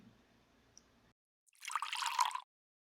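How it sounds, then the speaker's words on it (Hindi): Water poured from a cup into a blender holding chopped peaches makes a short splashy pour of just under a second, close and fairly loud, after a brief quiet pause. "1 कप पानी डालेंगे"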